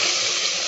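Hot tempering poured into ven pongal, a short loud burst of hissing, sizzling splash lasting under a second.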